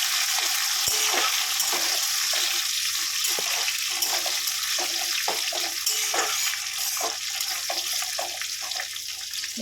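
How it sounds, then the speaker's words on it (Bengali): Cashews and raisins fry in hot oil for basanti polao, a continuous dense sizzle with occasional soft stirring clicks, close and steady throughout. "কাজু কিশমিশটা ভাজা হয়ে গেছে"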